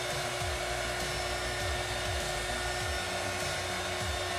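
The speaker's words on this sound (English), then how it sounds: "So really, this heat gun ain't no joke, y'all." Heat gun blowing steadily while custom wine glasses are made, a loud, constant airy roar with a motor whine, close and uninterrupted, with no talking over it.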